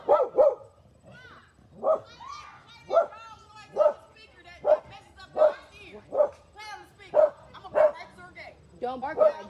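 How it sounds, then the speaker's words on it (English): A dog barks in a steady series of about a dozen short yips and woofs, roughly one per second, close and clear, while people talk. "Don't bark at my dog."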